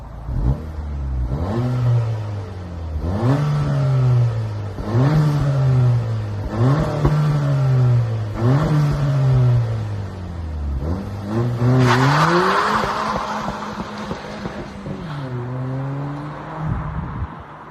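A 2023 Acura Integra engine revs through its exhaust in a series of about six rising and falling pulls with a steady rhythm, loud and close, followed by a brief rushing burst and then a calmer hum, with no talk.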